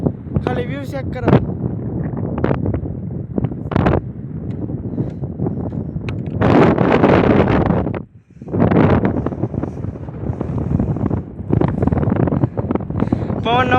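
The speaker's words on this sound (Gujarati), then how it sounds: "પવનનો અવાજ બહુ આવશે અહીંયા" Strong wind gusting across an open outdoor spot, broadband rushing noise buffeting the microphone throughout, with a louder surge midway and a brief lull, while people talk over it.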